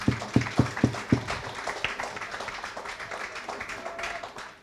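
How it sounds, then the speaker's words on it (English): An audience in a primary school courtyard claps, starting with a few sharp distinct claps and then settling into softer, scattered applause. "You need to clap for that."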